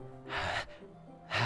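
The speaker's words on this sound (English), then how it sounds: "It sounds like breathing. A sharp inhale, like someone is sucking the air through their teeth." Two sharp breaths drawn in through the teeth in a video game, a close, breathy hissing inhale followed by a brief pause and a second one, with no talking.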